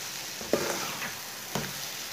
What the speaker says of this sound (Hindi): अब अंडे को भी दो मिनट तक पका लेंगे।